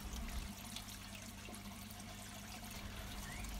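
Quiet, steady trickling and gurgling of water drawn into a pond skimmer by a pump, with a low continuous hum underneath.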